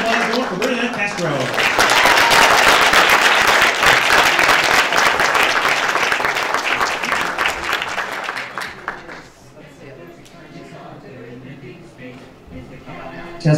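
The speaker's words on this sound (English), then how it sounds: "keep that applause going for Bernadette Castro" Sustained applause from an audience at a motivational speaking event, loud and dense for about nine seconds before thinning out and fading, with faint voices beneath the tail.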